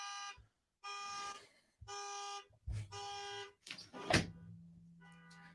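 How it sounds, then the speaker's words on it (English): A neighbor's alarm outside sounds in repeated loud tonal bursts with short gaps, broken by a thump and a brief noisy clatter midway, then the tone returns faintly. "Just my neighbor letting her alarm go off."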